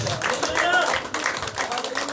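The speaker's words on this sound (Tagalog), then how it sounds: "Bigyan natin ng magandang palakpak ang Diyos." Church congregation at an afternoon service clapping together in praise, a short stretch of mixed claps under an ongoing voice speaking over them.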